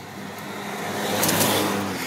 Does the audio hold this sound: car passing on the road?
yes